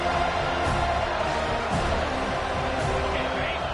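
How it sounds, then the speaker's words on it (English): A stadium crowd in the College Football 25 video game roars steadily on a third-down defensive stand, a dense, continuous wall of cheering that holds at the same loud level throughout. "Decibels rising as the crowd gets behind this defense on 3rd down."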